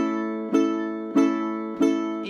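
An open, unmuted ukulele strum rings out in a swing jazz rhythm, three full chords struck at steady intervals with each left to sustain and decay before the next, close and clear with no talking.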